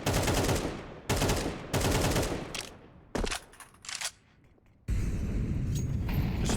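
Rapid automatic gunfire from Counter-Strike on the Vertigo map comes in loud sustained bursts from close range, with short gaps and one quiet pause between volleys. No one talks.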